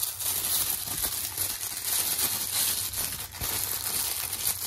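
Neon tissue paper from a LOL OMG Series 8 doll unboxing crinkles and rustles steadily for several seconds, close and fairly soft, with no voices.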